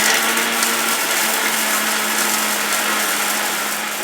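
Mixer grinder loudly churning ingredients for homemade chocolate spread, a dense, steady high-pitched whir held close and continuous throughout with no voices.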